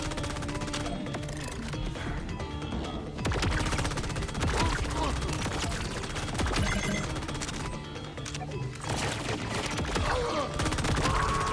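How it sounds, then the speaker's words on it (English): Gatling gun fire in the video game Borderlands 4: dense, rapid, sustained bursts of loud mechanical gunfire with crashing impacts, nearly continuous with brief pauses around three and eight seconds. "With a Gatling gun."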